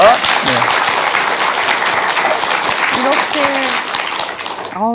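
A Buddhist dharma talk audience gives a guest speaker sustained, dense applause that fills the whole stretch at steady loudness, with a voice speaking faintly over it near the end.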